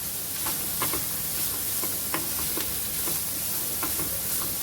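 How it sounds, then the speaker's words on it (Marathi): Cabbage and mixed vegetables stir-frying in a pan for veggie noodles, a steady close sizzle broken by repeated scraping clicks of a spatula stirring, with no talk. "त्याच्यानंतर आपण थोडा कोबी घालत आहोत"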